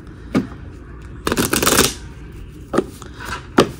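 Playing cards are shuffled by hand, one long riffling burst in the middle framed by short sharp snaps and taps of the deck, close and fairly loud.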